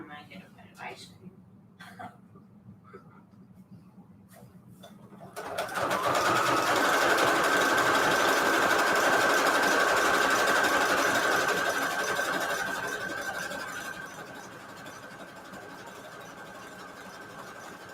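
A sewing machine stitches a Christmas junk journal cover, starting abruptly after a few seconds of quiet room noise and running steadily with a whirring hum, then easing slightly toward the end.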